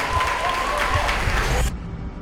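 Audience applause for guests at a large event, a dense burst of clapping with crowd noise and some voices mixed in, cutting off abruptly after about a second and a half.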